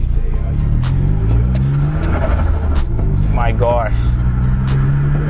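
A small turbocharged Suzuki Alto K10 built for quarter-mile drag racing hums and revs steadily from inside the cabin, with induction noise and a brief fluttering blow-off valve, as a passenger exclaims over it.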